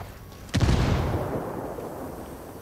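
A frag grenade explodes in the shooter game Ghost Recon Wildlands, one sudden heavy boom that hits hard and then rumbles away over about two seconds.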